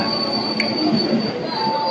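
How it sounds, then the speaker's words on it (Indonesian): Commuter train pulling into Cilebut station, with a sustained high metallic wheel squeal over a rumbling undercarriage, loud and close, no voices. "udah sampai nih kereta pertama ya di stasiun Cilebut, kereta pertama"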